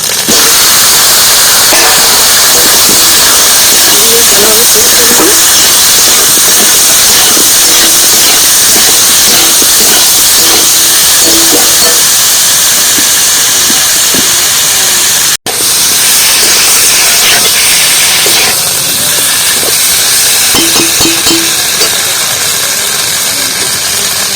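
Meat hitting a hot pot for bottle gourd biryani gives a loud, continuous hiss and sizzle that fills the whole stretch, broken only by one brief cut.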